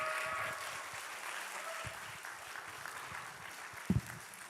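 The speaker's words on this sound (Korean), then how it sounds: "힘찬 박수로 모셔보면 어떨까요?" A church youth congregation gives a faint, steady round of applause to welcome a pastor. The clapping sounds distant and soft, with a couple of brief thumps near the end.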